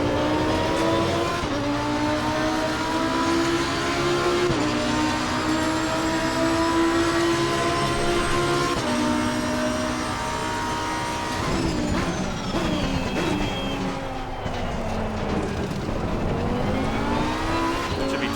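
A Lamborghini Huracan EVO GT3 racing a lap at Circuit of the Americas in Assetto Corsa Competizione, its engine screaming loud and close with rising and falling pitch through gear changes and downshifts, plus brief tire squeal.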